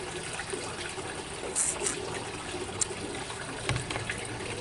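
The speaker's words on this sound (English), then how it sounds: "The water's loud." Loud ocean water rushes in a steady, close wash throughout, with a few faint clicks and knocks on top and no talking.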